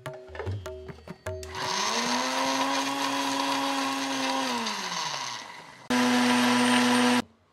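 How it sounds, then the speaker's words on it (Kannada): Kitchen mixer grinder whirring through a thick paste of coconut, jaggery and spice powder with little water, a loud steady motor drone after a few clunks, stopping briefly and then running again in a short burst. "ಇದನ್ನೀಗ ನಾವು ರುಬ್ಬಿ ಇಟ್ಕೊಳ್ಬೇಕು"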